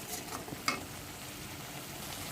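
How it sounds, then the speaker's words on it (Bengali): Spice paste with cumin powder being sautéed in a pan, a soft steady sizzle with a few faint scraping stirs, fairly quiet and continuous. "এবার মশলাটাকে আমি ভালো করে কষাতে থাকবো।"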